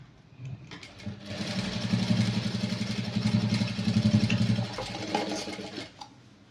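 Sewing machine stitching folded fabric for tassels, a steady mechanical whirring run of about four seconds that starts and stops cleanly, close and fairly quiet, with no talking.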